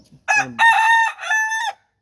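A rooster crows close by, loud and clear: a short lead-in note followed by a long, drawn-out two-part call that ends abruptly, with no talk over it.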